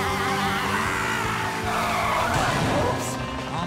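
Cartoon vehicle tires screech and skid through a 360-degree turn in an underwater cartoon town, giving a loud, continuous squeal with an engine-like rumble beneath it. The squeal fades near the end.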